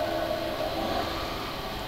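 A subway train roars past in Resident Evil 6, a loud, dense rush of rolling noise with a steady tonal whine, heard alone for a brief moment.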